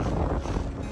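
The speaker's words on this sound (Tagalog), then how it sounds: "Lakas ng hangin." Strong wind blows across an open rural field, buffeting the microphone in a loud, continuous rush with uneven gusts and no voices.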